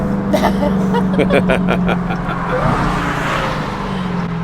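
A rumbling Dodge Challenger SRT Hellcat Redeye engine, 797 hp, idling close by with a few sharp revs early on, loud and throaty, with faint voices in the background.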